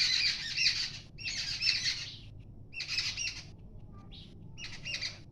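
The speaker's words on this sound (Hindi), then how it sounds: "आई थिंक चिड़िया की आवाज़ आ रही है," Birds squawk and chirp in four or five harsh, bright bursts, each about half a second to a second long, against a steady low hum, with no talking.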